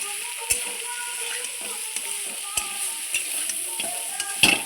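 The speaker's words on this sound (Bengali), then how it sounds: "ভেজে নেব ডাঁটাগুলো কি ভালো ভাজতে ভাজতেই সেদ্ধ হয়ে যাচ্ছে ডাঁটাগুলো" Red amaranth stems frying in a pan, a steady sizzle with light taps and scrapes of stirring and a louder clatter near the end.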